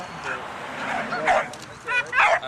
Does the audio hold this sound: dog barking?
yes